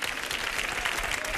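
A studio audience on a game show claps for a contestant: steady, dense applause filling the room from start to finish, with faint voices mixed in.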